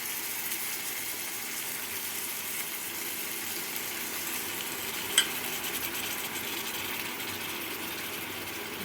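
Yogurt goes into a pan of chicken curry and sizzles evenly and continuously, with soft stirring and one brief clink partway through.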